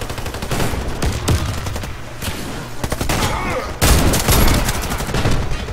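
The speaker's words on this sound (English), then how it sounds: "I shoot her and shoot her, but rarely does she die. But I'm shooting her, like lots of shots." Rapid, repeated gunfire in a shooter game, a loud and nearly continuous stream of overlapping shots with a few heavier bursts, most intense near the four-second mark.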